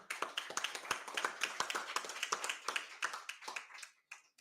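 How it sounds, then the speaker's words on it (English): At a ceremony announcing the AM4C president, a small group claps for Nasreen with distinct, sharp hand claps, fairly quiet and close, thinning out and stopping near the end. "A round of applause for Nasreen."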